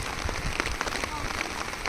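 Steady rain pattering down beside the flooding Ghod River near a bridge, a dense close hiss of drops, with people talking faintly in the background.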